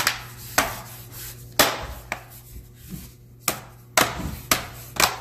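Bottom panel of an Acer Aspire 5 laptop snapping back into place: a series of sharp plastic clicks and snaps at irregular intervals, close by, with faint rubbing between them.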